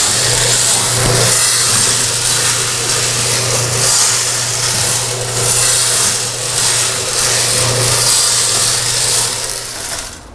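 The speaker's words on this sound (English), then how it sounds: "If you have the sound turned up on your computer, you might want to turn it down just a little." A loud, continuous mechanical rumble from a 100-year-old rotary tumbler polishing metal, with a steady low drone and a noisy grinding wash on top, running without pause.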